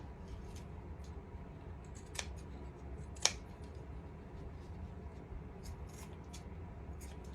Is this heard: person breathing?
no